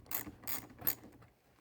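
A socket ratchet loosens the positive battery terminal nut on a 2021 Jeep JL, giving three quick, crisp clicking bursts close up, then trailing off into quiet.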